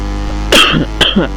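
Two short, harsh coughs close to the microphone, about half a second apart, over a low background hum.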